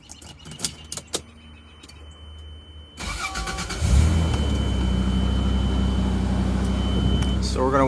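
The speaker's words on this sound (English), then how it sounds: "First thing we're going to do is start the truck, and let it get to operating temperature." Toyota Land Cruiser FZJ80 with a 1FZ-FE engine cranks and fires after a few quiet seconds of clicks and key jingles, then settles into a steady, close, fairly loud idle rumble.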